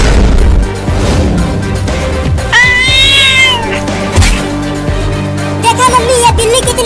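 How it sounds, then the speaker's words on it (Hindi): A cartoon cat meows and yowls loudly in a drawn-out, wavering cry amid busy comedic sound effects, with other noisy clatter around it. "देखा मम्मी, ये बिल्ली कितनी ढीठ है,"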